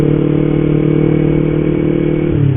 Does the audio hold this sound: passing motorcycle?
yes